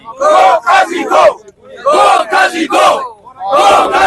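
Lawyers protesting outside the Supreme Court in Pakistan chant a short slogan in loud, rhythmic bursts. Each burst of massed voices is separated by brief pauses and repeats several times close up.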